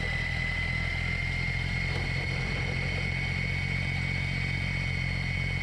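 EGO 56V two-stage battery snow blower with its auger running, a steady loud electric whine and whirring hum without pause, heard close from a camera mounted at the front, with no talking.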